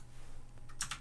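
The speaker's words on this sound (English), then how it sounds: "So let's type in QYE" A couple of quick, crisp keystrokes on a computer keyboard, close by, near the end of an otherwise quiet stretch with faint low hum.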